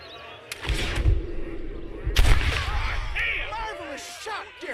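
Two loud, close gunshots ring out in Red Dead Redemption about a second apart, each a sharp crack with a booming tail that echoes. A voice speaks over the ringing afterward.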